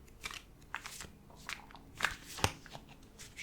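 A pile of flag cards being shuffled by hand, giving soft irregular riffling and crisp card slaps close up, with a sharp snap near the middle of the run.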